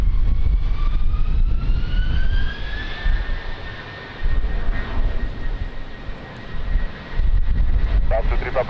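An airplane takes off in strong wind at Lisbon Airport, its engine roar steady and loud with a rising whine, while radio voices talk over it.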